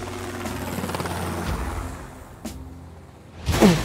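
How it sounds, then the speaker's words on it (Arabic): A droning cartoon airplane engine rumbles and sputters unevenly as the plane shakes from an engine fault, followed by a sudden whooshing burst. "واضح كمان ان في حاجة في الموتور مش مظبوطة، الطيارة بتتهز جامد"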